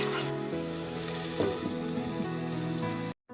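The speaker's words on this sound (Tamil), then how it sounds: "உப்பு சேர்த்து நல்லா வதக்கி இதை வந்து அடைச்சி வச்சு வேக வச்சுக்கலாம்" Ghee chillies and onions sautéing with salt in a pan, a steady close sizzle with a brief stirring clatter midway and a low background hum, ending suddenly.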